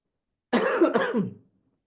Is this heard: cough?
yes